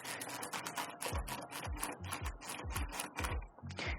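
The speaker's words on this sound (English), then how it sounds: "now we need to get this tail light off. 10mm socket, like everything in life." A ratchet with a 10mm socket clicks rapidly in quick bursts while removing the tail light on a Honda CRF300 motorcycle; the close, crisp pawl ticks run steadily with brief pauses.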